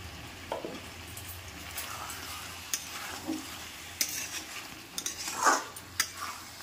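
Kadai chicken masala being stirred in a pan with chopped coriander: scraping spoon strokes and soft clinks over a low sizzle, close and fairly quiet, with a few louder scrapes near the end.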